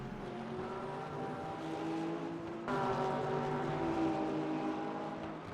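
A Porsche race car engine roars steadily in a racing video game at the Fuji circuit, a sustained harmonic drone that steps up sharply in pitch and loudness midway as the car accelerates, with no voices over it.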